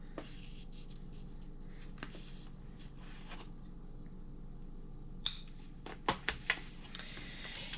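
Fabric scissors snip small notches into a handbag liner placket, giving a few sharp, quiet cuts near the end against a low, hushed room background.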